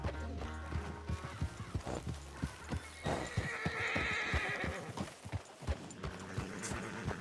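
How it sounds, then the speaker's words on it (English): A horse in Red Dead Redemption 2 neighs and whinnies while its hooves clip-clop steadily through the whole passage, with game ambience behind and a brief shrill call near the middle. "Damn horse acting up on me, of all the times."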